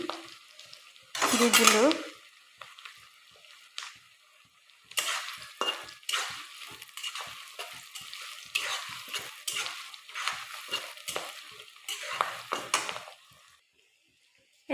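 Whole cloves, cardamom and cinnamon fry in hot oil in a pan, with a loud sizzle as they go in, then a steady crackle broken by repeated scraping stirs of a spoon against the pan; a voice speaks briefly.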